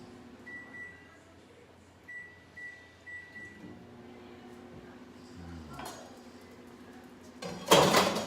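A microwave oven heating rice hums steadily while several short beeps sound, followed by clattering and a loud rattling clank near the end.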